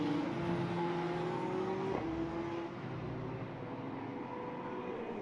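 Formula race cars in an Ultimate Formula Cup race at Portimão blast past a trackside commentary box, a steady loud engine roar with rising and shifting pitch as they pass.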